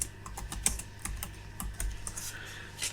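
Close, steady typing of email text on a computer keyboard, a run of quick irregular key clicks over faint room hum.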